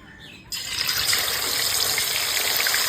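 Pieces of marinated katla fish drop into hot oil and burst into a loud, steady sizzle that starts abruptly and keeps crackling without a break.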